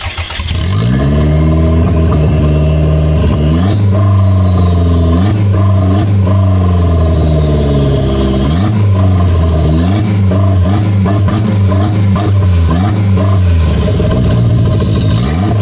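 Toyota MR2 fitted with an Apexi N1 Evolution exhaust, revved repeatedly in close, loud bursts, the engine climbing and dropping in pitch several times over a steady idle, with no talking.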